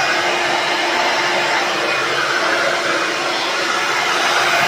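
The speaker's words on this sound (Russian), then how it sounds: "Волосики сушу и едем." A hair dryer blows on hair in a steady, loud, close whoosh that holds an even roar for the full few seconds, with no voices over it.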